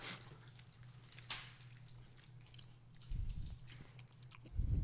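Soft, close chewing on a fruit punch Gushers fruit snack: quiet wet bites and squishes, with a couple of louder munching bursts toward the end.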